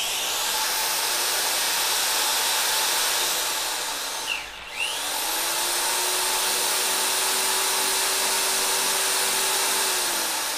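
A Makita 100V angle drill whirs steadily at high pitch, briefly stops and restarts as its reversing switch is tested, then runs on continuously and loud, alone.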